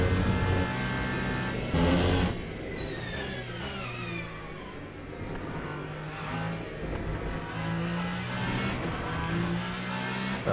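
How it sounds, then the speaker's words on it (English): Race cars in the Le Mans Ultimate sim racing game, with the lead LMP2 prototype passing: a loud, steady engine roar with rising and falling pitch sweeps as cars go by, continuous throughout. "That was the lead LMP2 car."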